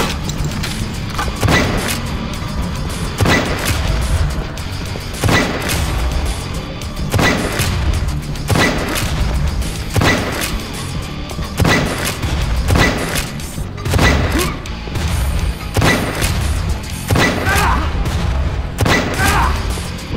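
Repeated booming gunshots from a first-person shooter, Painkiller Black, fired at hands in the game, landing roughly every one to two seconds over a dense, loud in-game background.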